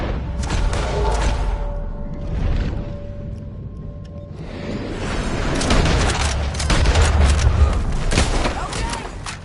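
Gunfire from Red Dead Redemption 2 with scattered loud shots and booms layered over busy game sound, growing denser and heavier toward the end.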